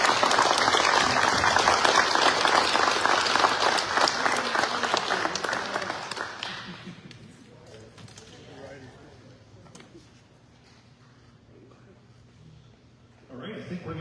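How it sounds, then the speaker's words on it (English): An audience at an information night bursts into loud, sustained applause for several seconds before it dies away into quiet room tone, with a little talk and shuffling afterward. "Just one more round of applause."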